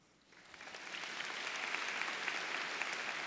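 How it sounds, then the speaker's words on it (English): An audience at an education awards night breaks into applause, swelling from quiet to a steady, full clapping that carries on alone. "Let us applaud them one more time."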